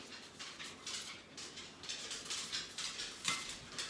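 Light, scattered clicks tap across a hard floor in an irregular rhythm, faint and close, like a dog's claws as it walks around a quiet room.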